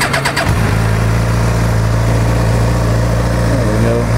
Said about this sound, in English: Pull that clutch in and I'll fire it off for you.